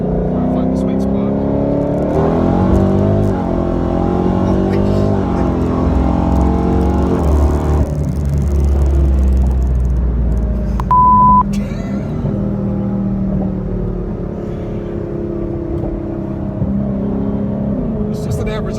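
A 1000hp Dodge Hellcat sedan rumbles deep and steady from inside the cabin, its engine swelling louder for a few seconds midway, with people talking throughout.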